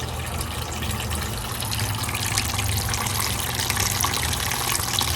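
Sweet wort for an oatmeal stout drains from an opened spigot in a continuous close splashing, gurgling flow, steady throughout with no voices.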